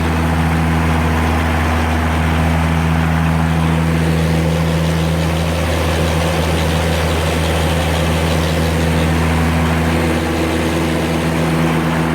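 An Oliver Super 88 tractor engine idles steadily close by, a loud, even low drone with a strong hum that holds unchanged throughout, no voices over it.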